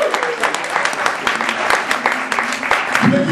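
Audience applause and cheering at a tribute event, a dense, steady wash of clapping from a crowd that carries on without a break for a few seconds.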